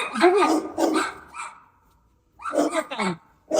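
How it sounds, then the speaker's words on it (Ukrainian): Dogs bark in two short clusters of sharp yaps, fairly close, with a brief quiet gap between them. "Сусідські собаки."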